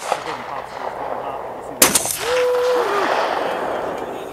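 A single loud gunshot cracks out once, sharp and close, breaking a steady background hiss, followed by a brief rising voice-like sound.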